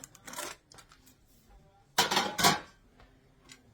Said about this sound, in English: Let's take this pan off.